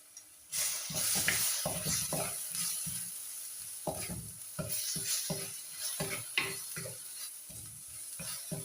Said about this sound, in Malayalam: ഈ ഇഞ്ചിയുടെയും വെളുത്തുള്ളിയുടെയും ഒക്കെ പച്ചമണം ഒന്ന് മാറുന്നത് വരെ ഒന്ന് ഇളക്കി കൊടുക്കാം.